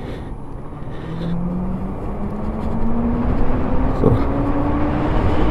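A Rumble Motors Air SS v2 electric motorcycle accelerates at full throttle, its motor whine climbing steadily in pitch over loud wind and road rumble at close range.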